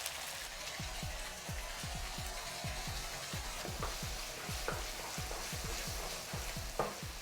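Sauce hissing and sizzling in a hot wok while char koay teow is stir-fried, a steady crackling bed broken by repeated rhythmic scraping strokes of the spatula, close and continuous with no talk.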